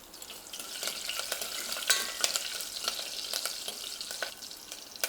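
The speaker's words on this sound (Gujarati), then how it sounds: "રાઈ જીરું સરસ ફૂટી જાય" Mustard and cumin seeds crackle and pop in hot oil in a pressure cooker, a busy sizzle with sharp little bursts scattered irregularly across the clip, no voices.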